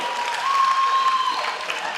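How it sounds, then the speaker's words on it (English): High school audience giving a round of applause, a brief even wash of clapping with a faint high tone running through it. "Give her a round of applause"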